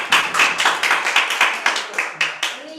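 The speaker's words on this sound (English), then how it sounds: "They need more claps." Audience at a joint health talk clapping in a rhythmic, evenly spaced beat, about ten sharp claps close by, then slowing and fading out.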